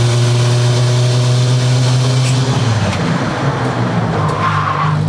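A turbo 2JZ-swapped Charger braking hard: loud engine drone that drops away into a rough tire skid and scrub, close and intense throughout.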